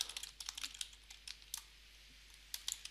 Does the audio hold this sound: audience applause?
no